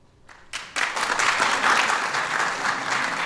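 Audience applause at a National Design Awards ceremony swells in from quiet to a loud, dense, sustained wave of clapping that keeps going to the end, with no talk over it.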